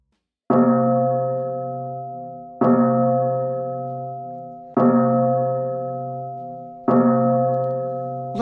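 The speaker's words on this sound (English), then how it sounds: "we got to ring the bell" A bell is struck four times for a livestream donation, each stroke about two seconds apart with a sharp attack and long ringing decay, loud and close with no talking.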